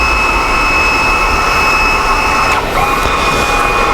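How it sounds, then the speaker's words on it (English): Electronic parking brake motor on a 2009 Audi A8 running in test mode to release and apply the rear brake, a steady loud whine with a brief dip in pitch partway through. "The motor runs to open and close the rear parking brake for 3 times."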